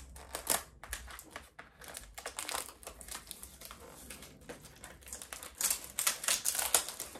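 Plastic wrapping being peeled and pulled off a bottle of body lotion, a run of close, crisp crinkling and tearing bursts that come irregularly and grow busier toward the end, with no talking.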